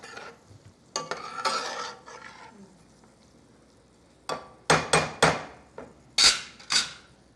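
Yakitori sauce is stirred in a pot, heard as a few short swishing scrapes followed by a cluster of sharp metallic knocks and clinks from the utensil, close and moderately loud.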